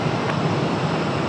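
Southwest Airlines jet at Raleigh-Durham airport, a steady broadband roar of engine and rushing air holding level throughout, heard from a distance with wind noise on the microphone and no speech.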